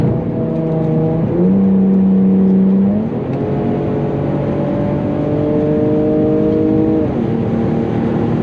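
An Infiniti G37 engine revs hard and climbs through the gears, loud and close, with the pitch rising, dropping at each shift, then rising again.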